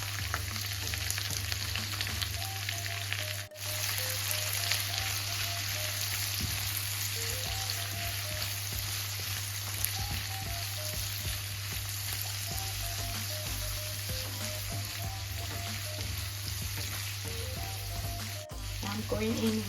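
Onions and carrots frying in a pan, a steady crackling sizzle that runs throughout with a constant low hum underneath and brief occasional clicks.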